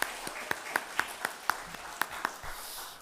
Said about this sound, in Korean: 우리 모두 한번 격려의 박수, 또 하나님께 영광의 박수 올렸으면 좋겠습니다